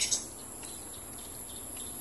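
Faint bird calls sound outdoors, thin and distant, over a soft steady background hum that could include insects, with a brief louder chirp at the very start.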